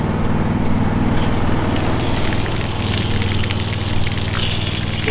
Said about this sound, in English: we'll flip that, we'll go out front and water will come up